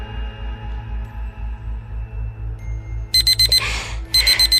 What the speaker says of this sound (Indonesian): timer pun berbunyi pertanda waktu sudah habis